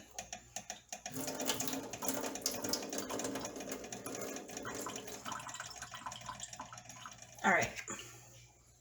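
Tap water running steadily as tomato seeds are rinsed, a sustained splashing hiss with a brief louder gush near the end; a voice speaks briefly at the start.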